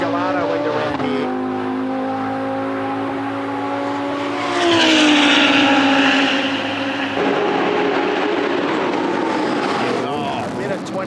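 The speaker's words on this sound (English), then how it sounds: "The Rulo Motorsport 2014 Lamborghini Gallardo" A Rulo Motorsport 2014 Lamborghini Gallardo race car drives at a World Time Attack Challenge event. The engine drones steadily, then surges louder and higher midway as it passes, while commentators talk over it throughout.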